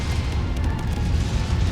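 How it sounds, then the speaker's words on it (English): MechWarrior 5 AC-2 autocannon explosions rumble in a constant, dense barrage of low booms and pops, loud and continuous with no pause. "look at the AC-2s! It's like literally just constant explosions."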